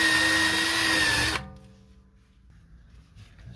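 Power tool whining loudly for over a second while stripping rust near the brake line under a 2006 Honda Pilot, then cutting off and leaving quiet ringing.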